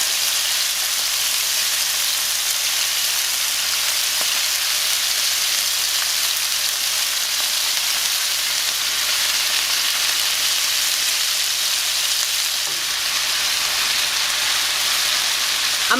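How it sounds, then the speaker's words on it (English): Beef searing in hot oil over medium-high heat for Mexican carne con chile colorado, a loud, steady, dense sizzle with fine crackle throughout and a soft clink near the end. "I'm gonna leave it on a medium-high heat for about 6 minutes, just so that the beef comes to temperature and we get a good sear"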